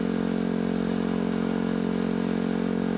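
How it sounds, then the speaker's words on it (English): A 2010 Yamaha WR250R dual-sport motorcycle hums along at steady speed, a constant droning engine tone with wind rush, loud and unbroken throughout. "My bike is a 2010 Yamaha WR250R."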